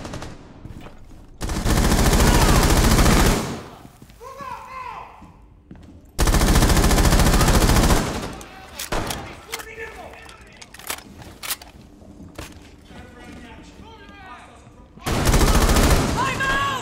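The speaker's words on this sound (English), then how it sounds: "Oh, we just shoot him up again." Automatic gunfire rips out in three long loud bursts in Rainbow Six Siege, with scattered shots and game effects between them while players talk over the action.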